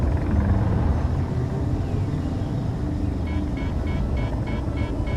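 A drone's engine in the video game Space Engineers drones on steadily as the craft flies away, a dense continuous mechanical hum with a faint pulsing whine, fairly loud and with no talk.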